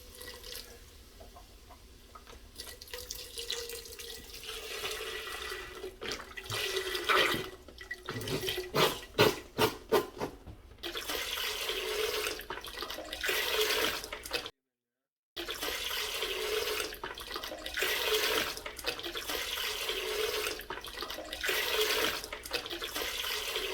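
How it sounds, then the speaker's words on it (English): Homemade chicken stock poured from a container into a soup pot of chicken vegetable soup with carrots, making a steady liquid splash and trickle with brief drips, close by, with some talk at times. "what we're going to do is add the rest of this stock"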